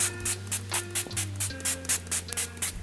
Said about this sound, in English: Now for setting spray, I'm going to go in with my e.l.f.